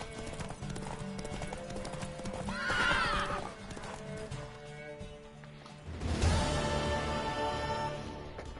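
A horse whinnies loudly in The Witcher video game, then hooves clop along amid game music and effects, and a second louder neigh bursts out near the end.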